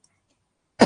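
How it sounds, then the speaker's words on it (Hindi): A single short, sharp cough from a man teaching a maths lesson breaks a near-silent pause, close and fairly loud. "थोड़ी सी खांसी हो गई।"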